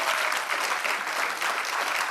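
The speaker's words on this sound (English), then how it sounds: "Give them a round of applause," Dense audience applause fills a soca cruise event space, a steady wash of many hands clapping at close range, loud and continuous with no pause throughout.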